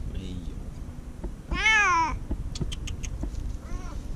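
A cat stuck at the bottom of a deep courtyard shaft lets out a loud, drawn-out meow, then a softer, shorter one a moment later, with faint background noise around it.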